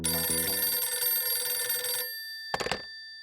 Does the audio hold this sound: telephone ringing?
yes